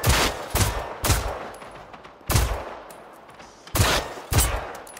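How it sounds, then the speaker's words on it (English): A hostile robot firing back in the open-world shooter Generation Zero: about six sharp, loud gunshot bursts at irregular intervals, each with a brief echoing tail and quiet gaps between them, no talking. "Oh god, he's shooting back."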